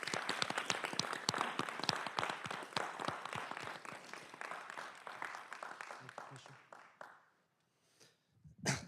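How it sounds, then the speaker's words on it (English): Audience applause at a Fulton County, Georgia Board of Commissioners meeting honoring Public Works Week; sparse, distinct claps from a modest crowd, loud at first and thinning out before fading to near silence, with a brief noise at the end. "Let's give them a big round of applause."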